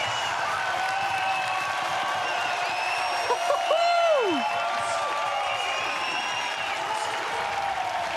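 Outdoor crowd cheering and applauding a big BMX trick at the Red Bull District Ride 2022 street event, a steady roar with whoops and whistles that swells briefly in the middle.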